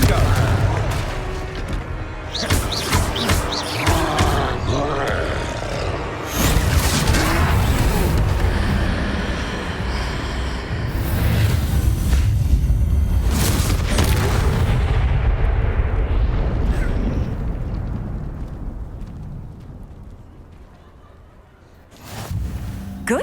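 Explosive spell blasts from the Hogwarts Legacy game, a dense run of booming impacts and crashes during a fight against a troll, loud and sustained with brief lulls before fading near the end.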